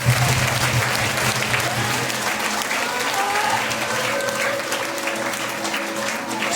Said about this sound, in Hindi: जोरदार ताली बजाइए इसके लिए।